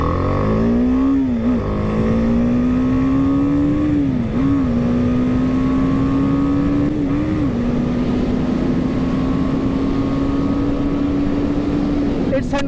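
A BMW G310 R motorcycle accelerating hard from 0 to 100, engine note climbing through several gear changes with brief dips between shifts, loud and close for the whole run.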